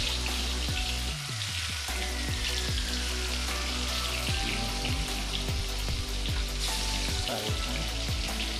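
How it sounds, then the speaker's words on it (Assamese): Fish pieces fry in hot oil, a loud, steady crackling sizzle with occasional spatters and soft clinks close by, no speech. "এতিয়া আমাৰ তেলটো গৰম হৈ গল ঢালি দিম মাছখিনি এটা এটা পিস"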